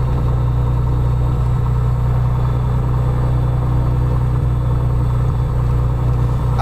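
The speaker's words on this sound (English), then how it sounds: "I'll keep the propeller RPM to 1200 for a few minutes for the temperatures to stabilize." A single aircraft propeller engine runs steadily at 1200 RPM during warm-up, a loud, close, constant low drone and rumble with no change in pitch and no talking.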